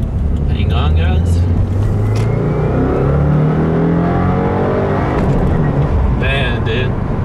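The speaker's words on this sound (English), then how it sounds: "I'm just gonna leave it on this and do a suck gear pull of no lift shifts." A tuned 2015 Subaru WRX with a MAP Stage 1 tune is held at full throttle through no-lift shifts, its engine roaring loud and close as the pitch climbs in repeated gear-by-gear surges.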